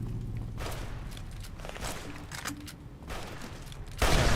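Rapid bursts of gunfire in Fallout New Vegas, with irregular clusters of sharp shots and thuds over a few seconds, ending in a louder burst.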